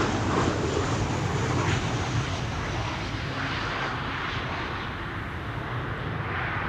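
A KLM Boeing 737-800 at Amsterdam Schiphol produces a continuous broadband jet rumble, fairly loud at first and easing slightly, heard alone without voices.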